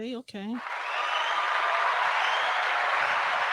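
Audience applause at a stand-up comedy show swells right after a brief spoken word and holds as a steady, full wash of clapping from a room of people.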